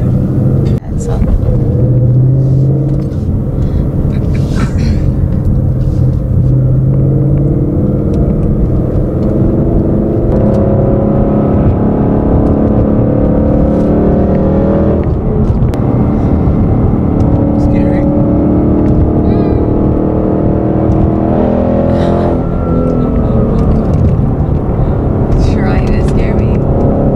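A Ford Mustang accelerates with a steady low engine rumble that holds loud and close throughout, with someone talking over it.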